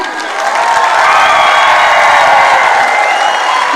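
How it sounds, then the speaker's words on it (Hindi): A live audience at an Asclepius Wellness (AWPL) event breaks into loud, sustained applause mixed with cheering and whoops for the company's founder, a dense crowd roar holding steady for several seconds. "मैं चाहूंगी कि उसके फाउंडर के लिए एक बार जोरदार तालियां हो जाए।"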